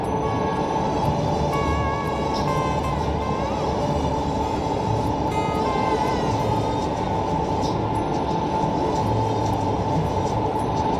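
Steady, loud roar of a car cruising at about 120 through the Tuscarora Tunnel, tyre and road noise reverberating continuously off the tunnel walls, with faint tonal whines over the drone.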